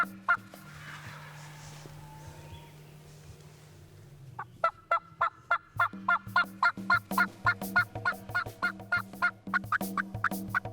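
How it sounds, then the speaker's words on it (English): A wild turkey gobbles repeatedly in a rapid, rattling series, starting faint and growing louder and nearer, with outdoor ambience underneath. "you could tell that gobble was getting closer"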